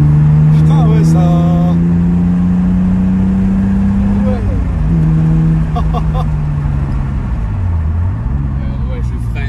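A Toyota Supra MkIII engine drones loud and close from inside the cabin, rising and falling in pitch as it accelerates and eases through corners, with brief gear changes and a voice talking over it.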